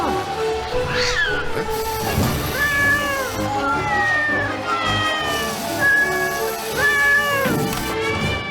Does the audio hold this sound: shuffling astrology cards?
no